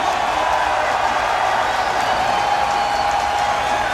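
A crowd cheers and applauds at a skateboarding contest final, a steady, dense roar of clapping and voices that holds for the full four seconds with no pauses.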